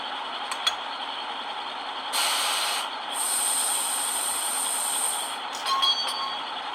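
Sound effects from a Piko MÁV M44 model locomotive, with a steady rumble, then a loud hissing burst and a long high-pitched whine, ending with a few metallic coupler clanks.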